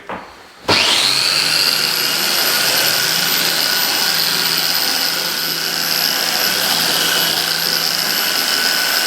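A giraffe sander starts up and runs on drywall joints, a sudden electric whir that jumps to a loud, steady high-pitched whine and holds unbroken for several seconds, close and alone.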